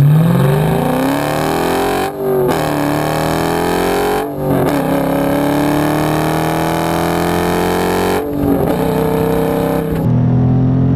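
A 2019 Dodge Challenger Scat Pack Widebody with a V8 and manual gearbox in sport mode accelerating hard on a straight road, loud engine pitch climbing through gears with brief dips at each shift.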